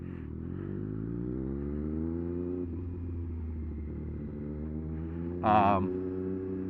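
Triumph Street Triple 765 RS motorcycle riding through New York City, a steady low engine drone held at a constant pitch, with a short higher tonal chirp near the end.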